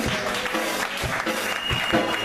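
Churchgoers applaud together, a moderate, steady wash of clapping with a few sharper hand claps, heard alone without talk.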